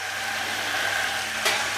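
Groats, meat and carrot fry together in a pan, giving a steady, close hiss of sizzling oil that holds evenly throughout, with no voices over it.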